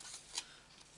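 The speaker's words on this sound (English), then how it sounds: "Just trim them all." Scissors trimming paper for a stamped greeting card, a faint, short snip with light paper rustling, close by and quiet.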